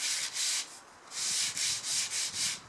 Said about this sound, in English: I'm going to change to 80 grit sandpaper block.